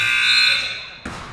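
A loud electronic buzzer sounds at the end of the third quarter of a boys' high school basketball game, a sustained harsh tone cutting off abruptly after about a second, followed by gym crowd noise.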